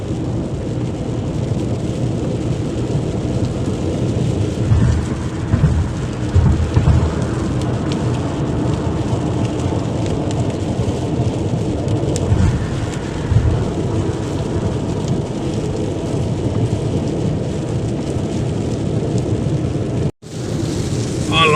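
Heavy rain pours steadily at night on a road to the airport in Brisbane, Australia, with low rolling thunder rumbling underneath, a dense, continuous downpour that cuts off abruptly near the end.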